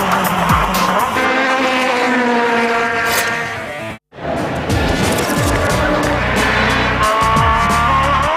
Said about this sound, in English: You're watching the FW1 Aussie Racing Cars from the streets of Adelaide.